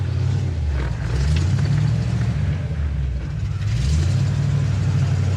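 A 1963 Chevrolet Impala's engine rumbles steadily as the car backs up, a deep, loud low-end drone that holds throughout with slight swells in revs.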